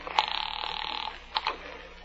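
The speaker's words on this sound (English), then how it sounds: "Will you ring Miss Brent, please?" A house telephone ringing as a radio play sound effect, a bright bell trill lasting about a second, followed by a couple of clicks as the receiver is picked up.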